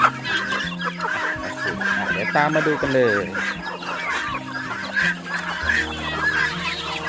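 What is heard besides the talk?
chickens clucking at feeding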